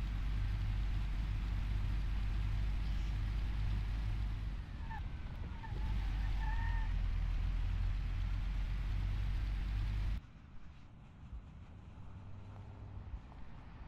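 An old car drives through the city in the Mafia video game, a steady low engine rumble with brief squeals partway through, then a quieter, thinner idle near the end.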